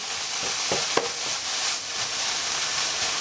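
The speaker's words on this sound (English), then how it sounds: "we're gonna just heat up the ham a little bit, brown it up a little bit" Ham and half a steak frying and browning in a pan, a steady broadband sizzle with a few sharp pops and scrapes of stirring, close and continuous.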